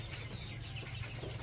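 Chickens cluck steadily after their morning feeding, a busy, continuous low chatter at modest volume with no pauses.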